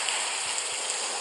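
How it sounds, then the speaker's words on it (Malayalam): Heavy rain in a Minecraft game makes a dense, steady hiss that fills the whole short stretch evenly, with no voices over it. "നല്ല മഴയാണ് ഗൈസ് നടക്കുന്നത്"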